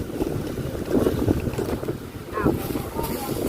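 Steady wind roars in gusts over the microphone outdoors, near and fairly loud, with a faint voice mixed in.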